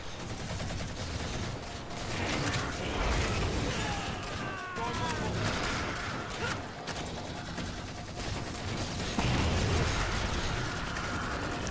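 Railgun shots and blasts hitting Promethean Knights in the Halo 4 video game, heavy bursts and explosions over a busy battle din, with someone talking throughout.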